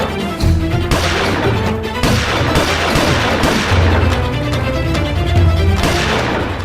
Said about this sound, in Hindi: पटाखे नहीं फोड़ रहे हैं प्रिय, गोलियां चला रहे हैं